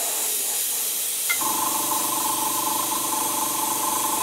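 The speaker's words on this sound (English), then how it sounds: "So we have our black in the airbrush, and" Airbrush spraying black paint over a dungeon floor stencil grid: a steady, close hiss begins after a short quiet moment and keeps going without a break to the end.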